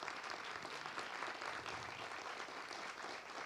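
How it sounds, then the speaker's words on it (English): A crowd at a city State of the Community gathering in Ozark gives a round of applause for firefighters, a dense, steady wash of many hands clapping that holds evenly for a few seconds. "I just want to give them a round of applause because they give a lot"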